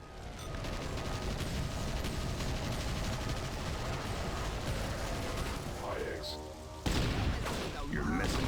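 Gunfire from the Lawgiver pistol in the PS2 game Judge Dredd: Dredd vs Death, a steady stream of rapid shots and mechanical clatter, then a sharper burst near the end, with a voice talking over it.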